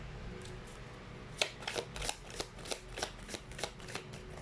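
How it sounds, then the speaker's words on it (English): A deck of tarot cards is shuffled by hand up close, producing a quick series of crisp riffling snaps and slaps in an uneven rhythm, quiet and without talk. "Now let's pull up another set of cards here."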